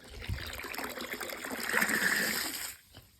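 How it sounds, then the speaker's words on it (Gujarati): Drinking water pouring from a pump motor's outlet into a container, a steady near trickle and splash that swells slightly before cutting off near the end. "ભાઈ પીવાનું પાણી ભરે છે."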